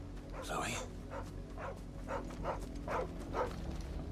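A brown-and-white dog in Final Fantasy XVI barks and yips in a series of short, evenly spaced woofs at moderate distance over a faint background hum.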